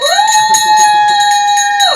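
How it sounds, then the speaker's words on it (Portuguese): A Getinge bell rung live during a clinical engineering broadcast, giving one clear, sustained ringing tone with bright overtones that holds steady for about two seconds before cutting off, with no talk. "Tocamos o sino da Getinge ao vivo"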